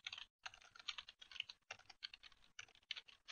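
Fingers tapping a computer keyboard while typing a terminal command, a close, quick run of irregular clicky keystrokes broken by a few short pauses, with no voices.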